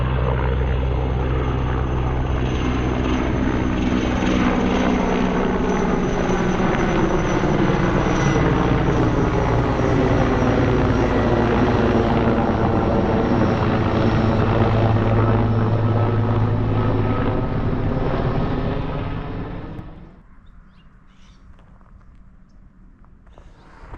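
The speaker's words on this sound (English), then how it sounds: "here comes another helicopter getting ready to make a dump" A helicopter's steady rotor thump and engine roar fill the air for a long stretch during a water drop after a wildfire in Malibu, then fade abruptly, leaving quiet outdoor ambience.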